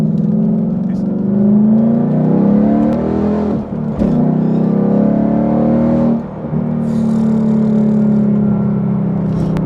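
A Ford Mustang with a straight-through exhaust accelerates hard, its loud engine note climbing through the gears, with brief dips at each shift.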